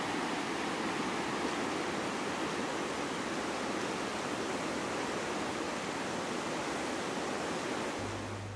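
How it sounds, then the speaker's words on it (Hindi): The Neelum River in Kashmir's Gurez Valley rushes steadily throughout, a dense, loud, unbroken roar of flowing water with no voices. "इस पूरे माहौल में दरिया का पानी ही नगमे सुना रहा है"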